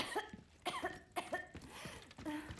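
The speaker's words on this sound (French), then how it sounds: "Arrête de tousser, oh." Several harsh, close coughs in the video game Resident Evil 4 Remake come in quick succession, about five bursts with short gaps between them and no speech.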